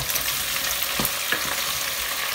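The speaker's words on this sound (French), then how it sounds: "Voilà, là c'est parti pour la friture." Sausage and onions frying in a pan, a dense, loud continuous sizzle with a few soft stirring knocks, no talk.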